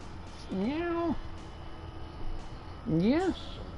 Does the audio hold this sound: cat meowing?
yes